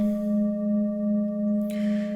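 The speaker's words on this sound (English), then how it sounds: "Himalayan bowls are also called Tibetan singing bowls, are generally regarded as the best sounding singing bowls." A steady, pure ringing tone from a Himalayan (Tibetan) singing bowl with layered overtones, sustained and even, with a brief hiss of noise near the end.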